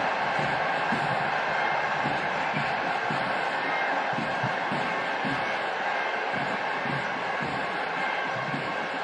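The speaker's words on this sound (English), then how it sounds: "Viking claps all around" Football fans doing the Viking clap in a packed stadium, a steady rhythm of big unison claps under the dense roar of the crowd.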